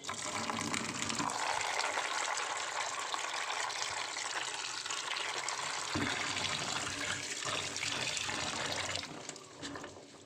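Water pours steadily over date palm seeds in a container as they are rinsed, a continuous close gushing fill that runs for about nine seconds before tapering off near the end.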